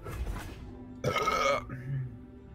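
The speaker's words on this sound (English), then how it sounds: "nice burp" A single loud, drawn-out burp about a second long, caught during a Legends of Runeterra card game livestream, with casual talk just before and after it.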